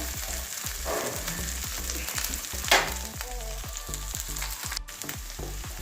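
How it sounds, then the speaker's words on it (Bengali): Ginger-garlic paste fries in a pan for a Bengali katla fish kalia, a loud steady sizzle with a few stirring scrapes and a brief sharp clatter near the middle, no voices. "এবার আদা রসুনটাও দিয়ে দিচ্ছি একটা কাঁচা গন্ধ যাওয়া পর্যন্ত বাজবো"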